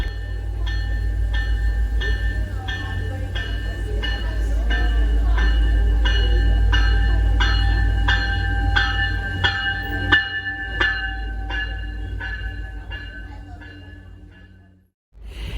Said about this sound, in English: Let me just turn around and show you the train approaching.